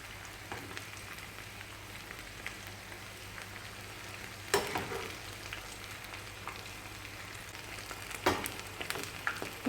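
Banana flower frying crisp in oil, a continuous close bubbling sizzle with a couple of louder crackling bursts, no talking.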